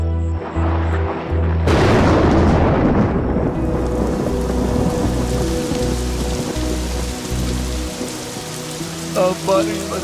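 Heavy rain pours steadily on surfaces while a loud thunderclap breaks in early and rolls on, with rumbling low booms continuing beneath the constant downpour; no talking.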